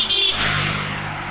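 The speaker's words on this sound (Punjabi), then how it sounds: "ਮੋਟਰਸਾਈਕਲਾਂ ਦੀ ਆਵਾਜ਼ ਆ ਰਹੀ ਹੈ" A brief engine drone with a rising rev as a motorcycle passes close by on a high mountain road, loud and short.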